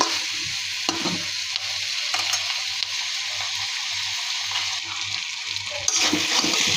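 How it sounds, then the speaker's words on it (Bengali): Shrimp and onion greens frying in plenty of oil with their own released water, a steady loud sizzle near the mic with occasional stirring scrapes and a louder burst near the end. "কিছুটা পানি উঠেছে, সেই পানি দিয়ে ভালো করে কষিয়ে নিব।"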